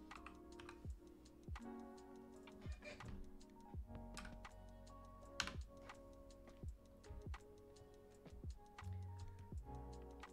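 Someone types on a computer keyboard, quiet close clicks in irregular clusters with short pauses between bursts.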